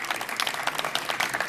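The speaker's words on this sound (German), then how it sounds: "Bitte einmal Applaus." Audience at a German tech talk on Freifunk networking gives a short round of applause, a moderate, dense patter of clapping with a steady, even texture.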